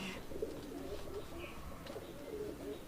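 Local pigeons, a male and female pair, coo softly in low, rolling phrases with a few faint higher sounds, steady and quiet throughout.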